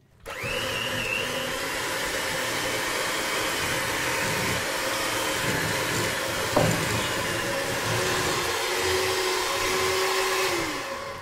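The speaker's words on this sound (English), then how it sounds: "combine them with the butter and the sugar and cream it until it's very fluffy" An electric mixer creaming egg yolks, butter and sugar in a bowl: a loud, continuous motor whir running nearly the whole time, with a brief clack partway through and a slight pitch shift near the end.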